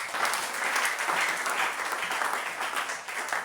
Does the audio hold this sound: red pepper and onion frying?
no